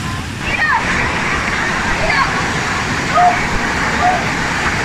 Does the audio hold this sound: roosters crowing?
no